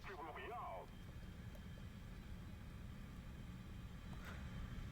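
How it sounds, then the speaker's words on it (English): A faster fixed-wing plane's engine drones steadily in War Thunder VR, a constant low rumble filling the whole stretch with a brief voice-like chirp near the start. "This is a bit of a faster plane."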